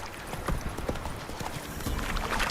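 Rapid hoof clip-clops from Roach, the horse in The Witcher 3, trotting steadily and close amid a dense wash of game ambience, with no talking.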